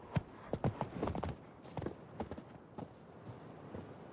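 Roach, the horse from The Witcher 3 video game, gallops with rapid, crisp hoofbeats in quick bursts, fading to softer, sparser steps toward the end.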